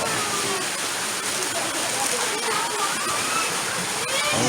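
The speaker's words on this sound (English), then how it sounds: "Up until now, it's starting to rain." Rain falls steadily at an outdoor feast where roast pig is served, a loud, dense wash of patter filling the space without a break.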